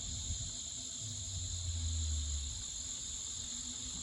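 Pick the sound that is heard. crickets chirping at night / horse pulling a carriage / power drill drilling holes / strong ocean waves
crickets chirping at night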